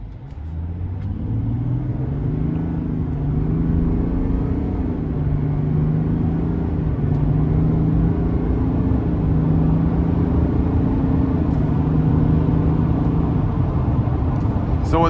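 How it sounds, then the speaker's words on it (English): A 2026 Chevrolet Silverado 1500 ZR2 Duramax diesel pickup accelerates in sport mode, its steady low rumble rising in pitch through the gears, heard from inside the cab as a fairly quiet continuous drone. "I'm gonna get it in sport mode, give it a little pull here"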